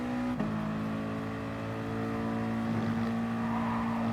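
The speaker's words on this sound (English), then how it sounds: "Oh, big moment, the car just slides around." Nissan Xanavi race car in a racing game, its engine holding a steady drone that dips briefly then carries on, with a faint tire-scrub hiss as the car slides around.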